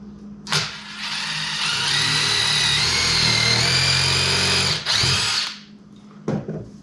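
A power drill pre-drills holes while building a DIY fiberglass tonneau cover, whining loudly and steadily for about four seconds with a rising pitch, then giving a short second burst and a brief final blip, close up with no talk.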